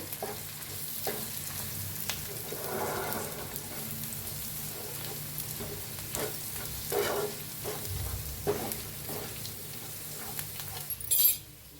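Egg curry masala frying in a pan as coriander powder is stirred in: a steady close sizzle runs throughout, with intermittent spoon scrapes and a brief sharper clatter near the end, no talking.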